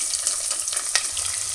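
Chopped onions dropped into hot oil for a hotel-style veg pulao, giving a steady close hiss of sizzling with light crackle and a brief louder spatter midway, no talking.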